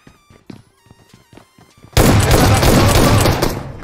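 Gunfire in the mobile battle-royale game PUBG Mobile on the Miramar desert map: scattered sharp shots in the first two seconds, then a sudden loud, sustained burst of rapid, dense automatic fire that continues to the end.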